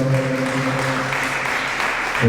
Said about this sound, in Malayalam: നല്ലൊരു കൈയടി കൊടുത്ത ശക്തിയോടെ